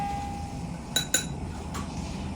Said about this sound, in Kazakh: Қасықты қоямыз мына жерге.